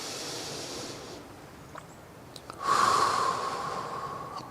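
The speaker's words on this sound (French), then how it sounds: "quand vous respirez profondément déjà," A person breathing deeply during a calm qigong exercise, a soft, slow exhale followed by a louder, close, drawn-out inhale, heard alone.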